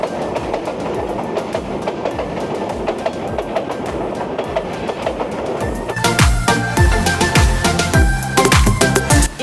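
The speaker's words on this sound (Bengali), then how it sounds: "কিছুক্ষণ দাঁড়িয়ে থাকতে আমরা সেই ট্রেনের শব্দ শুনতে পেলাম" A train runs along a railway line through dense forest near Sreemangal. A distant rumble swells into loud, close, rhythmic clickety-clack of wheels over rail joints as the cars pass.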